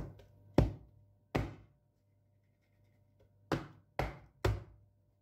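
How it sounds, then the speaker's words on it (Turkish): A baking tray filled with cake batter banged on a kitchen counter, five sharp, hollow knocks at uneven intervals, close and fairly loud with quiet gaps between them. "Bir iki defa da tepsimizi vuralım."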